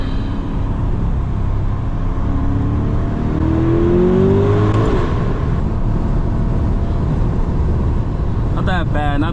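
A C8 Corvette sports car accelerates on the road, its engine note climbing steadily in pitch over a constant bed of road and wind noise, with a few sharp chirps near the end.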